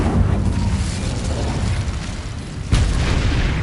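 A fiery spell effect in a game, cast as Incendio, roars as a loud, continuous rushing burst that stays dense throughout and swells again with a second whoosh near the end.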